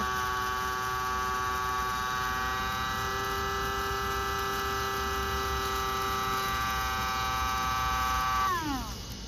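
An electric grinder whirs with a steady high-pitched motor whine while grinding dried peppers into powder, then spins down as it is switched off at the end.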